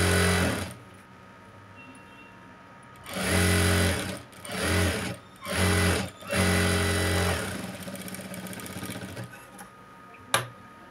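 Sewing machine stitching the hem of a lined blouse, running in several loud bursts of steady mechanical whirring separated by short pauses, with a single sharp click near the end.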